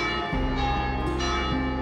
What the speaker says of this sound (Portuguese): Os sinos anunciavam o final do dia